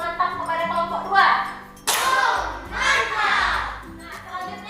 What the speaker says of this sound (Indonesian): Beri tepuk mantap kepada kelompok 2.